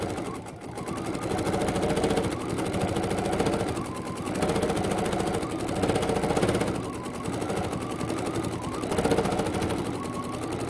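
A BERNINA sewing machine with a stitch regulator runs steadily while free-motion quilting a nine-patch block, its rapid needle chatter continuous and close, swelling slightly in waves as the pace changes.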